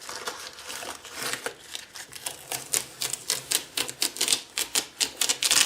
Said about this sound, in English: scrape the bindings of all the overspray